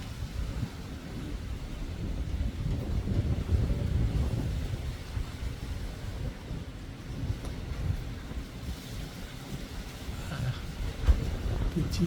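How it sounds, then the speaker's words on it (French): Strong outdoor wind buffets a microphone during a session getting a parrot used to the wind, producing a continuous low, rumbling roar with uneven gusty swells and occasional thumps, loud and close throughout. "Et vraiment, il y a du vent."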